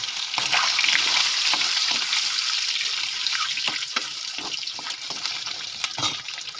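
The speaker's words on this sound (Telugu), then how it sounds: "డీప్ ఫ్రై చేస్తాం కొంచెం ఎగ్స్ బ్రౌన్ వచ్చేలాగా." Eggs deep frying in hot oil in a home kitchen, a steady close sizzle with scattered sharp pops and crackles that continues without a break and eases slightly toward the end.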